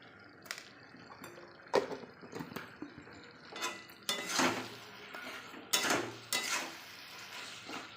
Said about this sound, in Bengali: সব আমি একসাথে ভালো করে মিশিয়ে নেব